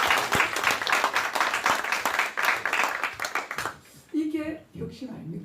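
Brief burst of audience clapping at a lecture on creative innovation, a few seconds of scattered claps with distinct hand strikes that fade out, followed by a voice speaking alone.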